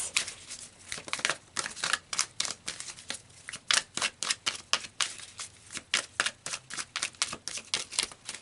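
Tarot cards being shuffled and pulled: a close, rapid series of crisp papery flicks and slaps in an irregular rhythm, fairly quiet, with no talking.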